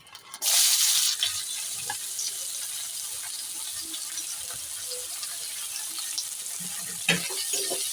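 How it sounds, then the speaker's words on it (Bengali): Chopped onion drops into hot oil with a loud initial burst of sizzling that settles into a steady, quieter crackle, with a brief stir or clatter near the end. "এই তেলের মধ্যেই আমি পেঁয়াজ কুচিটা দিয়ে দেবো"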